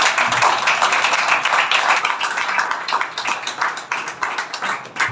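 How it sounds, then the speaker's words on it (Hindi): Enthusiastic clapping for a grandmother at a community gathering, a dense patter of many hands held close and steady for about five seconds, easing slightly toward the end. "दादी जी के लिए जोरदार ताली।"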